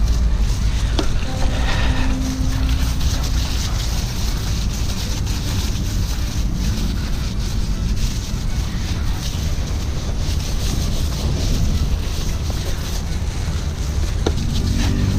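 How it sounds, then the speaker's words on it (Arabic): Water sprays steadily onto a motorcycle being washed, a continuous hissing wash of noise that stays loud and even for about fifteen seconds, with faint background sounds and no clear speech. "نرش ميه على البايك"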